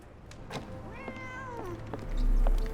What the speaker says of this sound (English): Oh, there is a cat over there.